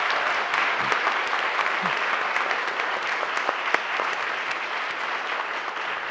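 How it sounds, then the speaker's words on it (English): A conference audience applauds panelists after a public policy discussion on investing in communities, a full, sustained round of clapping from a roomful of people with a few sharper individual claps standing out. "please join me in giving the panelists a big round of applause"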